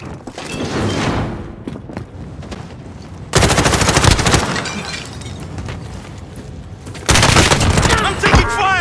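Call of Duty Warzone gunfire: heavy automatic bursts crackle loudly in two sustained volleys, the second louder and closer, over a continuous rumbling game backdrop.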